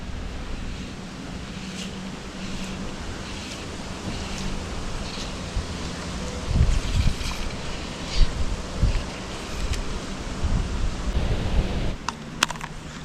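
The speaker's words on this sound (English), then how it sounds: "It is bloody windy though." Gusting wind roars across the microphone in buffeting bursts over a constant rushing background, growing stronger and more turbulent midway, with no one speaking.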